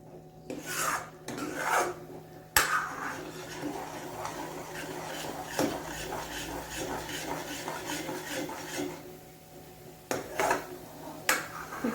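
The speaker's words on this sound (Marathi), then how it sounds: "जोपर्यंत ते एकजीव होत नाही आणि त्याला चांगलं तेल सुटत नाही तोपर्यंत आपल्याला हलवून घ्यायचं" A spoon scrapes and rubs steadily through masala frying in oil in a pan, close and continuous rasping with a few sharper knocks against the metal.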